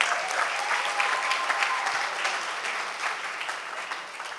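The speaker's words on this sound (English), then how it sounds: "Give another round of applause" Wedding reception guests applaud in a steady, dense round of clapping that holds at an even level throughout, with no talk over it.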